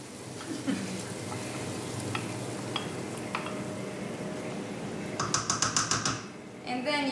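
Squid frying with browned onion in a pan: steady soft sizzle throughout, with a spatula tapping and scraping in a quick clattering burst near the end, under a quiet voice.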